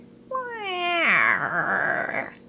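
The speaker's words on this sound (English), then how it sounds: "made strange, horrid noises, as cats do at night." A single cat's drawn-out night meow, rising then sliding into a harsh wavering caterwaul, close and clear against quiet, lasting about two seconds.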